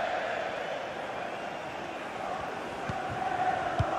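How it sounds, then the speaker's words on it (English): Manchester City fans cheer in a FIFA 21 stadium, a broad steady crowd roar that swells slightly near the end, with a couple of brief thuds breaking through. "just listen to these City fans, the crowd very much behind the team right now"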